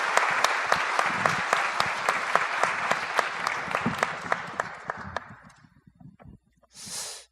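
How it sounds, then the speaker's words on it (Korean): A church congregation applauds steadily to welcome missionary Daniel Kim to the pulpit, sustained clapping at moderate distance that gradually fades out and ends with a short breathy noise. "우리 뜨거운 박수로 열렬히 환영하도록 하겠습니다."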